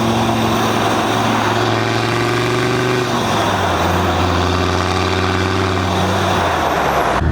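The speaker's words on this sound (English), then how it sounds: "Like the TD5 is so loud, because like the engine is literally there." Land Rover Defender TD5 diesel engine running loud and close with a new full exhaust system, a steady heavy rumble with audible turbo whine and a pitch shift midway as revs drop, no talk.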